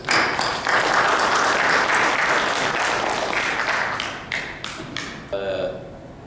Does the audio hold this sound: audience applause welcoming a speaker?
yes